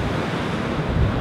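Ocean waves on a beach on a morning with wind: a continuous broad wash of surf mixed with blustery wind buffeting the microphone, close and steady for about a second.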